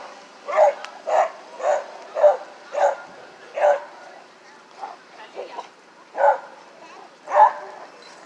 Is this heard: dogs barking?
yes